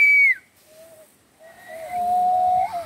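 A person whistles several clear, sustained tones, some sliding in pitch, loud and close, on an outdoor walk, with short pauses between notes.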